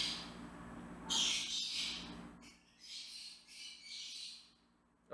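Pet birds give harsh, squawking calls in bursts, nearby indoors, with a quieter stretch of chattering squawks following.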